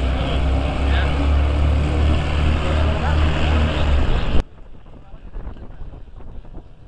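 A model aircraft's engine drones loudly and steadily as it sweeps past low overhead at an RC air show at RAF Cosford, then the sound drops away abruptly to faint background noise.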